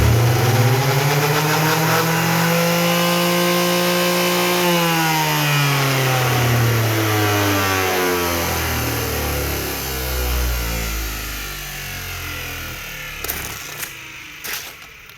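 An electric sander clamped in a vise starts up and runs with a loud whine that sweeps in pitch, then winds down near the end with a few knocks, close and alone.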